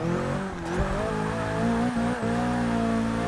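Nissan Silvia race car in Forza Motorsport 6, 373 brake horsepower, its engine droning loud and steady at high revs with tire noise underneath, briefly dipping as it shifts.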